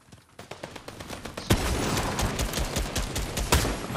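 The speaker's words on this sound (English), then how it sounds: "Oh shit, I'm getting shot." Fortnite gunfire: faint rapid shots at first, then a sudden burst of heavy, continuous firing that stays loud and dense, with sharp cracks punctuating the barrage.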